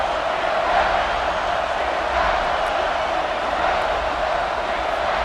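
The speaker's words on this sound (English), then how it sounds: "And here comes the noise. This crowd is trying to inspire this defense to make a big red zone stop." A football stadium crowd at a Miami vs South Carolina game roars to urge on the defense before a red zone stand, a dense, loud, unbroken wall of noise.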